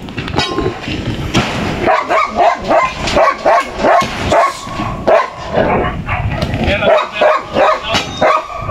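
Barking from a large dog, repeated short barks in a steady rhythm, fairly close and loud, with people talking in the background around a house where a pair of cobras slipped into the floor at the side.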